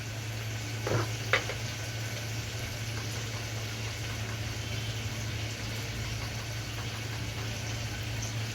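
Onion and tomato sizzle in a pan for a prawn rice dish, a steady close frying hiss with a couple of brief stirring clinks near the start, no talking.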